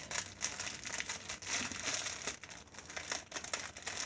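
Close crinkling and crumpling of AliExpress plastic packaging being worked open, a steady quiet rustle with small tearing bursts and no voice.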